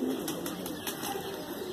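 Pigeons of fancy tail breeds (kaldumme, nildumme, laldumme), steady soft bird sounds with faint cooing and flutter, fairly close and continuous with no talk.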